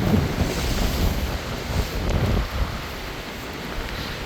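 Strong wind and surf on a seaside walkway, a loud, constant rush of waves mixed with gusting wind buffeting the microphone, easing slightly toward the end.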